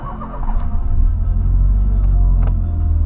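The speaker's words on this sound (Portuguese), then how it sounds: "vamos dar a primeira partida do dia no Polo." A Volkswagen Polo engine fires up for its first start of the day, a loud, steady low rumble that holds after a brief cranking onset, close by with no talking.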